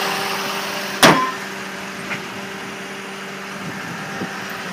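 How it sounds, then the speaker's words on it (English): The small engine of a 2004 Toyota Prius hybrid liftback starts with a sharp crank burst, then settles into a quiet, low steady idle with a few faint clicks afterward. "The little motor starts up."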